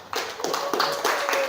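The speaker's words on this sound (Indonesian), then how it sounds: "sekali lagi kita kasih aplaus untuk kelompok 1 dan kelompok 2" Classroom audience applauding for two student groups, a short burst of clapping and hand taps, fairly close and steady, with faint voices mixed in.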